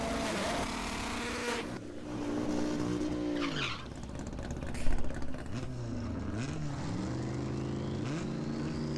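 A Honda Civic race car revving to 11,000 RPM accelerates hard, its engine note climbing and dropping through several gear changes, with a sharp burst midway and a faint buzzing whine underneath.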